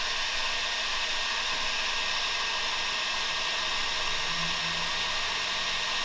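A heat gun blows a steady, loud airflow with a constant broadband hiss while warming a plastic tab on a Subaru headlight housing, with no pauses or talk.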